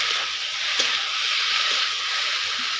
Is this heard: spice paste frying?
yes